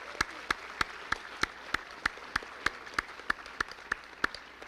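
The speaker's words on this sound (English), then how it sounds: "So let's give them a round of applause for our athletes." Sharp, evenly spaced claps ring out roughly three per second for several seconds in a quiet hall at an athletics recognition event, sounding like a single clapper or a small group in unison.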